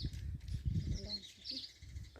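A common myna gives a few short chattering calls at a moderate distance over low background murmur and noise.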